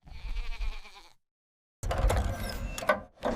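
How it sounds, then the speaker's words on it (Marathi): A goat bleats twice with a wavering, nasal cry, separated by a brief silence; the second call is louder and rougher. "गोट म्हणजे शेळी"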